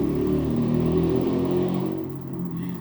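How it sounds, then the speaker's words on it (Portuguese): A motorcycle engine drones loudly nearby, steady and throaty, then fades slightly as it moves off toward the end. "É a moto passando aqui, gente"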